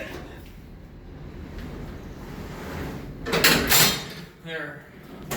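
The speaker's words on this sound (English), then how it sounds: "That's the heaviest freight door I've ever lifted in my entire life." A heavy vintage Dover freight elevator door is lifted at Texas A&M's Harrington Tower, producing a rising scraping rumble and metallic clatter that swells for about a second over steady background noise.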